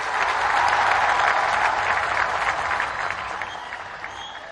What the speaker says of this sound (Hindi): जोरदार तालियां एक बार उत्तर प्रदेश सरकार के लिए